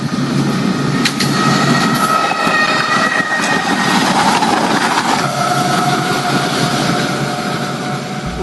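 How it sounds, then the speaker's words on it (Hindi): A local train rolls past at night as a drama sound effect. It is loud and sustained, with rumbling wheels, rattling carriages and a few high squeals across the whole stretch, and no talk. "रात को 12:10 पर एक लोकल ट्रेन वहां से गुजरी।"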